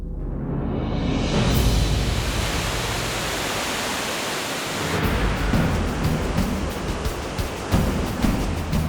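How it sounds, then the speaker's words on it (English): Dettifoss, Iceland's largest waterfall by volume, roars as a steady, dense wall of rushing water, loud and continuous with no voices. "This is Dettifoss waterfall."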